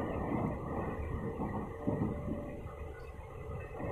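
Delhi Metro train running inside a passenger coach, a steady broadband rumble and rolling hum throughout, with no talk.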